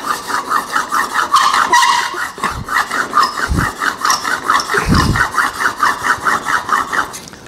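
Steel scraper being sharpened on a diamond plate stone, a steady rhythmic back-and-forth rasping that is loud and close, with a few low knocks and no talk.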